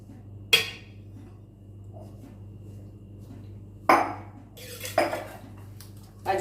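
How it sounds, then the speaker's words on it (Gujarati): A spoon scrapes and clinks against a metal pan while masala is stirred into oil. A few sharp, isolated taps sit over a low steady hum in an otherwise quiet kitchen. "તેલથી આપણે મસાલો મિક્સ કરી લઈએ."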